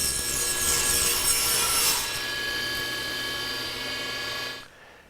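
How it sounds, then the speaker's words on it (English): A table saw cuts a rabbet into the side of a wooden tray, a bright high-pitched whirring rasp of blade through wood for about two seconds, settling into a steady hum before spinning down. "The first cut is a rabbet cut on the side to receive the bottom panel."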